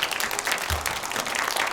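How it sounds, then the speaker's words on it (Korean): Applause from a children's concert audience greets viol performers taking the stage, a dense steady patter of clapping filling the short stretch without a break. "큰 박수로 맞이해 주세요."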